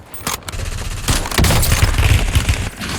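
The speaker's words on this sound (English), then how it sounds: "Taking fire." Rapid bursts of gunfire from a Call of Duty Warzone match fill the whole stretch, dense automatic fire with sharp shots layered over a constant loud battle din, no talking over it.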